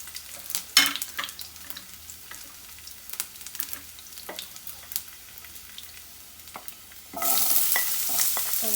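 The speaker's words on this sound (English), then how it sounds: "Now I'm adding the ginger and the garlic." Ginger and garlic sautéing in hot oil for a soya and potato masala gravy, a soft steady sizzle broken by occasional stirring clicks, then a sudden louder hiss as more goes into the pan near the end, close, no talking.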